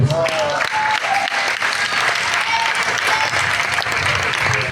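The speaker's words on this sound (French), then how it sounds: "Est-ce que tu peux t'applaudir ce matin?" Sustained applause from a church congregation, steady and fairly loud throughout, a dense wash of clapping with no break.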